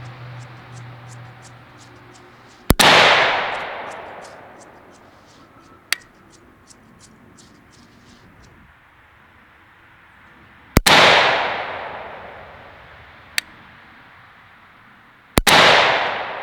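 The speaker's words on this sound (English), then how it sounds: "We're gonna do a full 10 shot 50 meter here." A PSA AK-103 rifle fires single shots at a 50-meter target: three loud, sharp cracks spaced several seconds apart, each with a ringing decay, plus fainter distant pops from other shooters.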